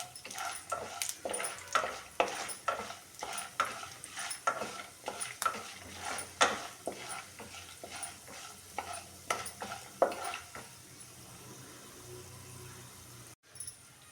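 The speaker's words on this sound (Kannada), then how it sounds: "ಸ್ವಲ್ಪ ಗೋಡಂಬಿ ನೀಟಾಗಿ ಹಾಕ್ಬಿಟ್ಟು ನಾವು ಇದನ್ನು ಫ್ರೈ ಮಾಡ್ಕೊಳ್ಳೋದು" Cashews frying with urad dal in a pan for beetroot rice, giving repeated sharp stirring scrapes and light sizzling in an irregular rhythm, close and moderately loud, then quieter at the end.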